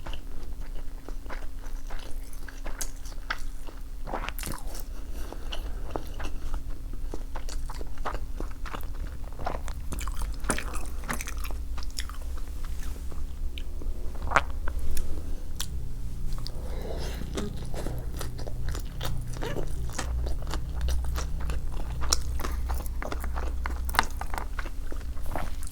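Sushi being bitten and chewed up close, soft repeated crunching and wet mastication sounds at a steady pace over a low constant hum, with no talking.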